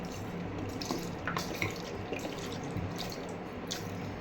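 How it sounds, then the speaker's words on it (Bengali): Water poured from a bottle into Maggi noodles, a soft continuous trickle and dribble at close range, steady for a few seconds with small splashy drips. "ম্যাগিতে এটুকু জল দিয়ে দিলাম বেশি।"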